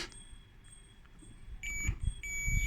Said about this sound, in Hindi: तो आपको बीप की आवाज़ आना शुरू हो गई है